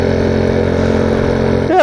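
A Honda C70 motorcycle engine runs steadily at close range with an even, loud hum, then briefly rises in pitch at the end as it is revved.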